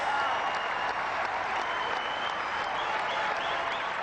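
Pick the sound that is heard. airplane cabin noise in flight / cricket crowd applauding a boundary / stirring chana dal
cricket crowd applauding a boundary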